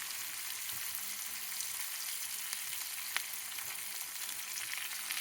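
Mustard seeds, spices and garlic sizzling in hot oil for a Telugu ivy gourd chutney tempering, a steady close frying hiss with a single sharp crackle partway through.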